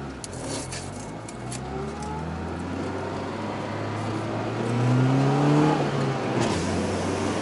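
A car drives along with the engine revving up and settling, a steady close whirring engine drone that swells louder toward the end, with no speech over it.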